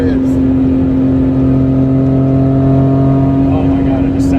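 A Honda Beat kei car engine hums with a steady idle drone, rising slightly near the end, while a voice talks over it.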